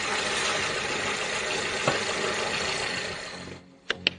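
A car engine runs with a steady, broad whooshing drone, then cuts out abruptly near the end, followed by two short clicks.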